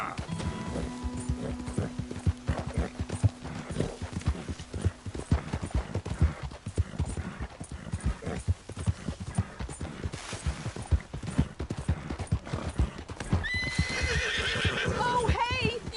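Steady hoofbeats clop along beneath a loud horse whinny near the end, with voices speaking over parts of it.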